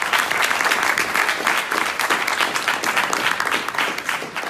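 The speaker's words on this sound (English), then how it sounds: "A big applause for him." Audience applause for a speaker at the Speck&Tech 24 fintech event, loud and close, with dense rapid clapping that continues steadily throughout.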